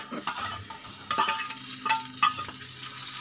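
Fried onion tempering poured hot into salna gravy crackles and sizzles hard, with sharp bursts and pops over a continuous frying hiss, nearby and alone.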